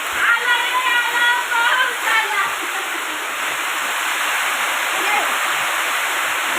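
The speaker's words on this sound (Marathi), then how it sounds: "एवढा पाऊस चालू आहे" Heavy monsoon rain pours down with water rushing and flowing in a steady, loud wash, during a storm with strong wind and lightning that flooded into a house; a voice talks briefly over it at the start.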